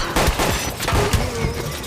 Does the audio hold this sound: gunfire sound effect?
yes